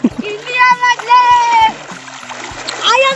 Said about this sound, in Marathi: पाणी उडव नको रे कॅमेरावर पाणी उडतोय